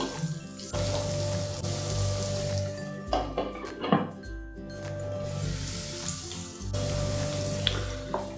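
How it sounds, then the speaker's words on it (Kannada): Chopped vegetables, including beans and carrots, fry in a pan over a medium flame for rice rava upma. A steady close sizzle runs throughout, broken by a few scraping stirs, with no voices. "ಮೀಡಿಯಮ್ ಫ್ಲೇಮಲ್ಲಿ ಇದನ್ನು 1 ನಿಮಿಷ ಫ್ರೈ ಮಾಡ್ಕೊಂಡಿದ್ದ ನಂತರ ಲಿಡ್ ಕ್ಲೋಸ್ ಮಾಡಿಕೊಂಡು 2 ನಿಮಿಷ ಬೇಯಿಸ್ಕೊಳ್ತೀನಿ"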